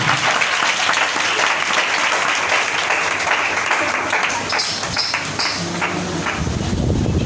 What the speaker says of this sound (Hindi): 2 तालियां, जोर की तालियां हैं और जोर की